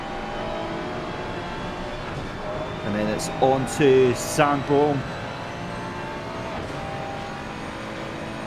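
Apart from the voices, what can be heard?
race car engine accelerating at Paul Ricard, from a racing video game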